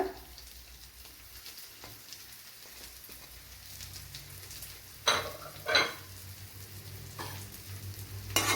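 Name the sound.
grated coconut frying in coconut oil in a pan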